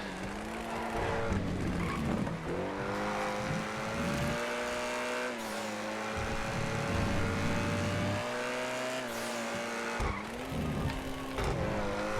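Engine noise from an Argento Contender Custom race car in GTA FiveM, held steady throughout with repeated tire squeals and skids as it fights to rotate into corners, loud and close with no talk.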